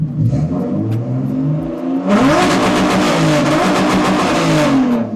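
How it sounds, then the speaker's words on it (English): A turbocharged BMW E30's engine revs hard, then bounces rapidly against its limiter in a loud, stuttering buzz that holds for several seconds. "you guys wanna hear a rev limiter? There's a rev limiter."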